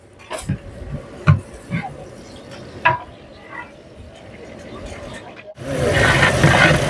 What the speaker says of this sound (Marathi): आता मस्त तेलावरती अख्खा मसाला आणि कांदा फ्राय होईल, लाल होईपर्यंत त्याला फ्राय करत राहायचं.